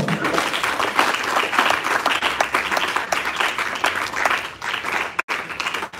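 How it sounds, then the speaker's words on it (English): Lecture-hall audience applauding at a Pan African lecture series, a dense steady wash of many hands clapping for about five seconds, dipping briefly near the end, with faint voices mixed in. "Ladies and gentlemen, let's give you a better round of applause."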